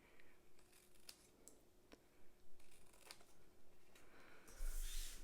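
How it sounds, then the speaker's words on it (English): Scissors snipping up the score lines of a paper treat box; a few sharp, separate cuts at close range, closing with a louder rustle of paper. "cut up each of the vertical score lines, stopping at that first horizontal"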